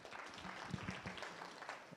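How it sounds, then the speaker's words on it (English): Audience applause at a tech week event in Nairobi, faint and distant, a steady patter of clapping with some low murmuring underneath. "Let's clap for our Deputy Governor, please"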